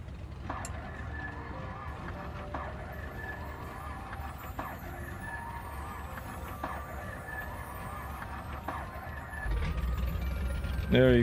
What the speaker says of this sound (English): All right, let's start the second engine.